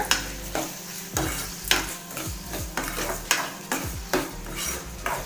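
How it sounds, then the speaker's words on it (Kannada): A spoon stirring onions, tomatoes and salt frying in a pan for tomato huli saaru, with repeated rhythmic metallic scrapes and clinks roughly every half second over a soft sizzle, close and clear, no talking. "ಒಂದ್ಸರಿ ಚೆನ್ನಾಗಿ ಮಿಕ್ಸ್ ಮಾಡ್ಕೊಳ್ಳೋಣ"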